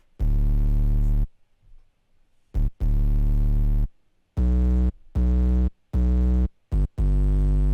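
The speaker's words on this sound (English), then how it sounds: "the 808s together sounds like this" Deep, booming layered 808 bass notes for a hyperpop-glitchcore track play in a rhythmic pattern, some long and sustained, others short and punchy, separated by clean silences.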